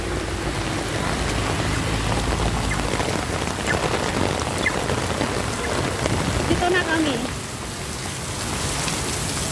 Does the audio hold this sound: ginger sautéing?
no